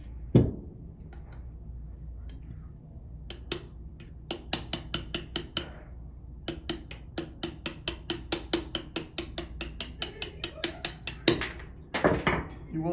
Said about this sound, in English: punch out the front hammer pin with a punch and a hammer